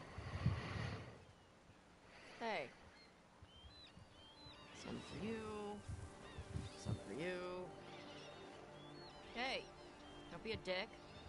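Geese honk in Dragon Age: The Veilguard, scattered nasal calls and squawks rising and falling across the scene over low background ambience and faint talk.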